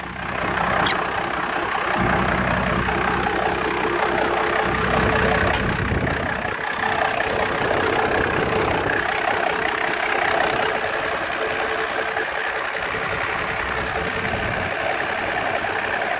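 A 12-valve Dodge Cummins diesel engine idles after a valve adjustment, with a steady, loud, close rumble and even knocking clatter that runs unbroken throughout, no talking.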